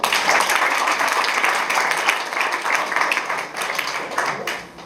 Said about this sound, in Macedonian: аплауз за него